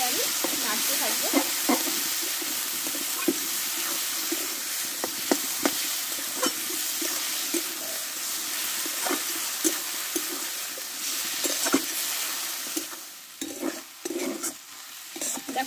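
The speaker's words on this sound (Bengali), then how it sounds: "এবার সেদ্ধ করা শাকটা আমি এতে ঢেলে দেবো। একসঙ্গে এবার আমি নাড়তে থাকবো।" Boiled drumstick leaves with soft potato being stirred as they fry in a pan: a constant loud sizzle under intermittent spatula scrapes and taps, the frying fading toward the end as the clatter becomes sparser.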